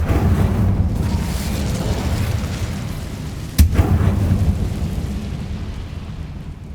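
A fire spell explodes in Hogwarts Legacy: a steady, loud booming rumble like a blast, with a sharp burst cutting through midway before the roar slowly fades.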